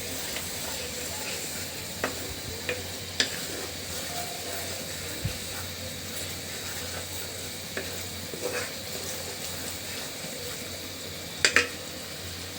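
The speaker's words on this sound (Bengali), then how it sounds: "মশলাটা কিন্তু খুব সুন্দরভাবে আমার কষানো হয়ে গেছে।" Spice paste (masala) stirred and fried in a pan for a Katla fish head bhuna. It makes a continuous sizzle with scattered scraping clicks from the spoon, and a few sharper knocks near the end.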